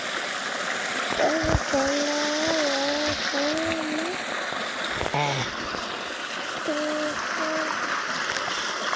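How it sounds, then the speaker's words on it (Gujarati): Irrigation water runs steadily into a vegetable garden bed sown with seeds such as cluster beans, a continuous broadband flowing rush with a few brief tonal calls rising above it. "અત્યારે આપણે ક્યારામાં પાણી ચાલુ કરી દીધું છે"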